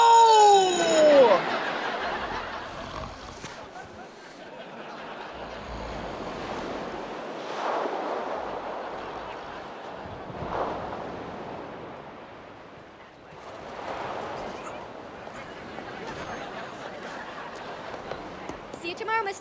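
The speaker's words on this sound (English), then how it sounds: "The waves are too big, they'll swallow me up." Large ocean waves surge and wash in repeated swells, with steady surf noise and wind buffeting the microphone; a voice speaks over the water.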